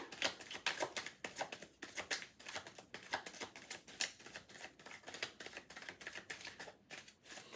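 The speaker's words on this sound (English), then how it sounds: "This is my last shuffle, and then I'm just putting it down because, like, clearly they do not like this deck." A deck of playing cards being shuffled, a rapid, soft riffling and flicking texture in quick bursts, close and quiet, with no voices.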